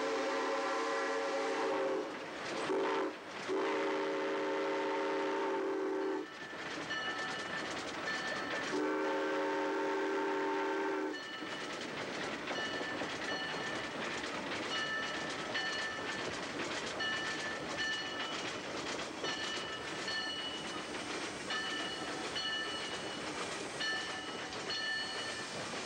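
A steam train on the Eureka Springs and North Arkansas Railroad, heard in 1983, gives a loud sustained whistle in two long blasts, then rumbles and clatters past steadily with further whistle tones over the running noise.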